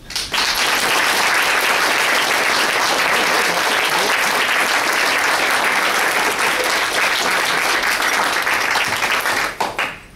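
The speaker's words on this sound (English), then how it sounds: "Round of applause for the best man on the top table." Audience at a wedding reception applauding the best man at the top table, a loud, sustained wash of many people clapping that continues evenly for the whole stretch before tapering off at the end.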